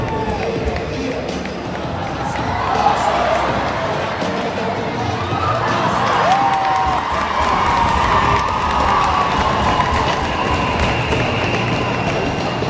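A high school hockey crowd at an OFSAA game cheers and shouts for the team mascot before the third period, a dense, sustained arena roar with scattered whistles and voices throughout.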